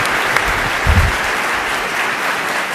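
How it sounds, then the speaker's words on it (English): Dense audience applause for two speakers at an IT summit, a loud, continuous wash of many hands clapping from start to finish. "Let's have another round of applause for both our speakers this morning."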